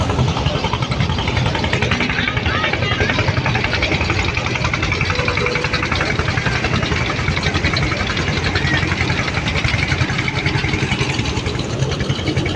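Steady drone of the passenger launch Rajdut Prime's engine approaching Banaripara ghat, a loud, continuous mid-pitched chug with no break across the whole stretch.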